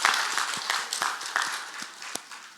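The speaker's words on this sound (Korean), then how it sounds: "우리 모두 수고하셨다고 박수하겠습니다" A church congregation applauds during a Sunday service, an uneven patter of claps of moderate loudness with a few sharper individual claps standing out.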